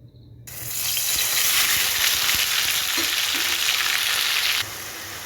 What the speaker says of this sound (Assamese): গেছৰ ফ্লেমটো মিডিয়ামত ৰাখি পিঁয়াজখিনি তেল ওলোৱালৈকে ভালদৰে ভাজি ল'ম।